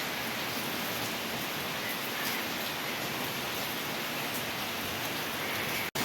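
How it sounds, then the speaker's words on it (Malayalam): Steady, heavy rain pours down in a continuous dense hiss with no pauses and no voices. "മഴയുടെ ശബ്ദം കൊണ്ട് ഞാൻ പറയുന്നത് കേൾക്കുന്നുണ്ടോ എന്ന് എനിക്കറിയില്ല"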